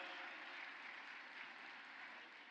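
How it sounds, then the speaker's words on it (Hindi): A crowd applauds to welcome guests at the inauguration of the Sri Sri Radha MadanMohanji ISKCON temple in Navi Mumbai, giving steady, dense clapping that stays even throughout and sounds somewhat distant. "जोरदार तालियों से स्वागत और अभिनंदन"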